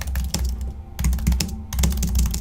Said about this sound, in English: I like the sound of this keyboard.